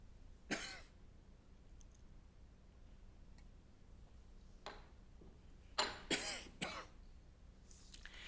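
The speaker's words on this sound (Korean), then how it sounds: "이렇게 기침하면 안쓰러워하는 표정이라도 해야지." A man coughs during a Sunday church service, in several separate rough bursts: one early, then a tight cluster of three or four close together near the end, with a quiet room between them.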